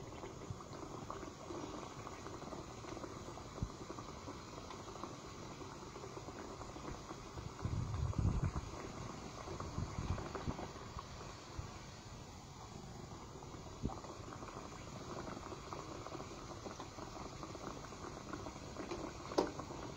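Tikki patties fry in oil in a pan, a steady, faint, close bubbling sizzle that runs continuously with small crackles and pops and no talk.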